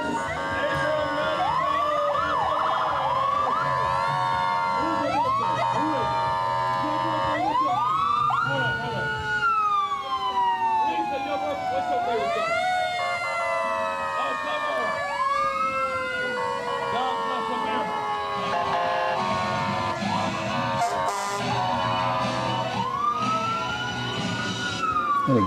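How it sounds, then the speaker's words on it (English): Madison Fire Department fire trucks sounding sirens in an Independence Day parade, repeated rising and falling wails overlapping with horn blasts, loud and close over crowd noise and voices. "And of course, sirens are great for the kids."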